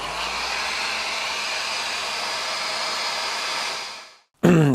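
A heat gun warms the engine casing boss of a Yamaha XV535 during starter clutch removal, blowing a steady, loud, airy roar for about four seconds before it cuts off, followed by a short knock.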